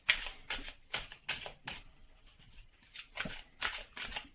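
Tarot cards are shuffled by hand in quick, rhythmic bursts, about eight close riffling swishes with brief pauses between, soft and up close with no talking.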